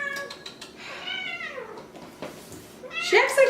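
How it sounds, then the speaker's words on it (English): A pet cat meows several times indoors, clear drawn-out cries close by, first rising and then falling, with people talking around and after the calls. "That's our cat."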